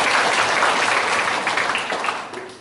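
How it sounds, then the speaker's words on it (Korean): An audience at a regional jobs forum in a chamber of commerce hall gives a round of applause, dense steady clapping up close that thins and fades over a few seconds, without talk. "큰 박수 다시 한번 부탁드립니다."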